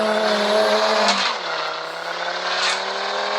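A newly bought, modified car accelerates as the gas is pressed, a loud close engine drone that shifts pitch downward midway and holds a steady roar, alone without talk.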